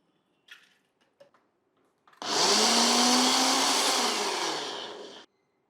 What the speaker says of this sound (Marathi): ही भिजवलेली उडदाची डाळ पहिले आपल्याला कमीत कमी पाण्यात वाटून घ्यायची आहे